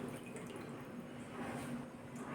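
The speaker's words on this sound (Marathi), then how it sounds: "आणखी थोडं पाणी टाकते त्यामध्ये" Water pours softly into a pot of yogurt mixture for kadhi, a faint, steady trickle with no talking.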